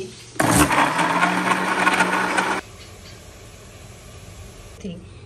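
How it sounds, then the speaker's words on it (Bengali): A kitchen blender whirs loudly for about two seconds as it blends carrots, then cuts off, leaving quiet room noise. "এখন গাজর ব্লেন্ডার করব"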